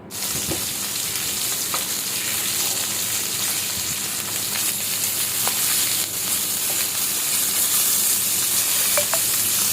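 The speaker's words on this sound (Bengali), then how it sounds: "এই তো হয়ে গেছে আমার ইলিশ মাছের মাথা, লেজ ভাজা" Hilsa fish head and tail frying in oil: a loud, dense, unbroken sizzle and spatter held close for the whole stretch, with a few soft knocks of stirring and no voices.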